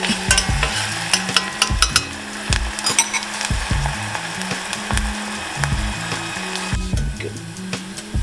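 Vegetables caramelizing over high heat in a pan with little oil are stirred in a series of quick scraping, clattering strokes over a steady close sizzle, with no talking.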